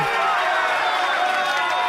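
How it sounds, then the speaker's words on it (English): Crowd applause at a World Poker Tour final table as a player walks away, a broad, steady roar of clapping and cheering from the audience, continuous and fairly loud, with a commentator's voice partly mixed in. "Big applause as he walks away"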